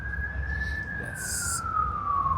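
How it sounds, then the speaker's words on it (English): A fire truck or ambulance siren wails as it passes outside on a busy street, a steady drawn-out tone that slowly falls in pitch, heard indoors at moderate distance under a low room hum. "There's a fire truck or an ambulance going by."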